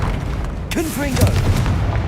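A Confringo blasting spell goes off in Hogwarts Legacy during a fight near a troll, a sudden booming burst followed by a short crackling tail, with game sounds and voices around it.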